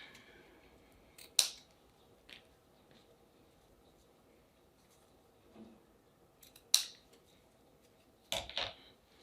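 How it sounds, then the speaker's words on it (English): Scissors snip through ribbon tails in a few crisp, close cuts spaced several seconds apart, the last a quick double snip, with quiet room tone between them. "So I'm going to cut these tails off."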